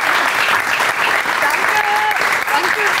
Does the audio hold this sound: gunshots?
no